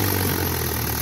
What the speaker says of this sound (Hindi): काफ़ी जोर लगा रहा ट्रैक्टर यार